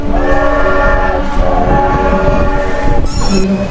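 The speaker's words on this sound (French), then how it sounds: "faut faire un petit coup de klaxon" A loud, sustained train horn on an amusement park draisine ride at Fraispertuis-City blares over the rumble of the moving ride, with a brief higher tone near the end.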